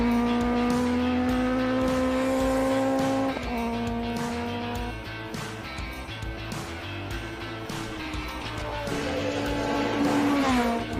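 A hillclimb race car at Simola Hillclimb, loud and close, holds a steady high engine note that drops under braking, then revs back up through turns and accelerates hard again, with faint tire squeal.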